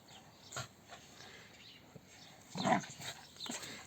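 A small Kangal dog growls and snaps in short bursts, with one louder flurry of snarling near the end, fairly close.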